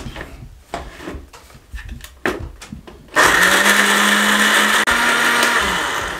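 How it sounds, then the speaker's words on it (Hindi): A kitchen grinder roars loudly at close range as it blends chana dal with milk and milk powder for halwa, kicking in after a few handling knocks and clatters and running steadily with a brief dip. "इन सब चीजों को हम यहाँ पे कवर लगा देंगे और यहाँ पे ग्राइंड कर लेंगे।"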